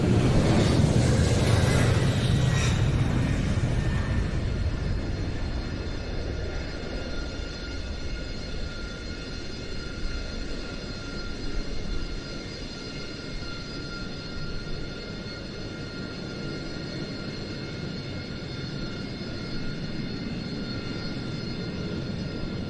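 An aerial refuelling tanker aircraft departs at the Royal International Air Tattoo 2024 airshow, supporting two CF-188A Hornets. Its loud engine roar is close at first, then settles into a steady, slightly fading rumble.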